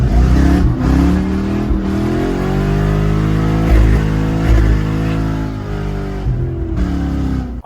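A Subaru engine, previously overheating, fires up and revs repeatedly, loud and close, with the pitch rising and falling in several throttle blips over a steady running rumble.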